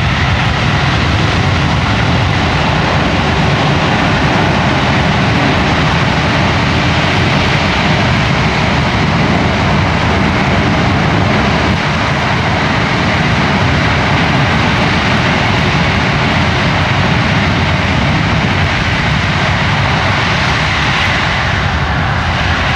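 A loud, steady roar of a USAF C-17's jet engines at full reverse thrust during landing at an airshow, broadband and unbroken for the whole stretch, close and overwhelming with no voices.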